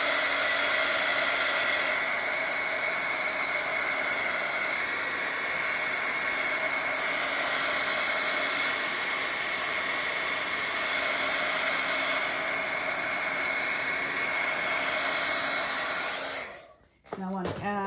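Heat tool blowing a steady, loud whooshing hiss across distress ink and watercolor on paper, continuous for about sixteen seconds before cutting off abruptly with a brief clatter at the end.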